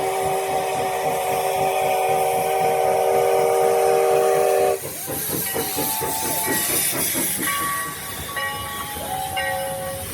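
Sierra No. 3, a steam locomotive at Railtown 1897, sounds a loud, sustained steam whistle that cuts off abruptly, followed by hissing steam, chuffing and shorter whistle tones close by.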